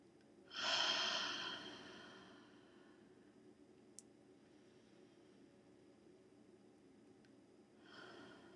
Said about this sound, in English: just three deep breaths in through your nose, and you can do out your mouth